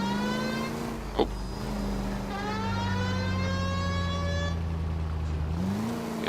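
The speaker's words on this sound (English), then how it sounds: "Guess that's our siren." A police car siren in the video game L.A. Noire wails in rising and falling sweeps over a steady engine drone while the car drives, with no talk.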